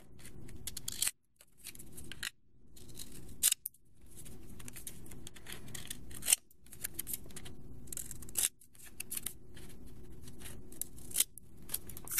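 Scissors cutting thin paper strips for origami flowers, a run of crisp snipping and rustling cuts broken by short pauses, close and quiet.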